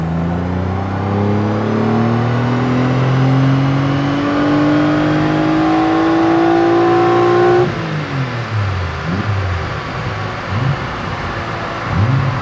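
A Renault Clio V6 on a dyno accelerates hard, its engine note climbing steadily through the gears, then drops to a falling, burbling overrun as the run ends, loud and close throughout.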